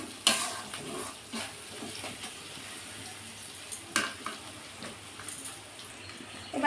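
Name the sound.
stirring and frying mango pickle spices in oil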